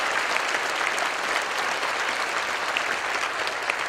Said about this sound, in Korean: 우리 모든 영광을 하나님께 돌리면서 감사의 박수를